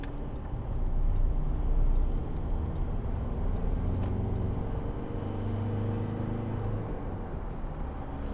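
A 2012 Volkswagen Amarok 2.0 BiTDI pickup truck drives along, its steady low diesel engine rumble and road noise continuous and fairly loud throughout, with no talking.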